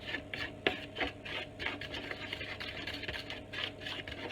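A spoon scrapes and rubs through brownie ingredients in a bowl, in irregular repeated strokes with soft gritty scraping, close and fairly quiet.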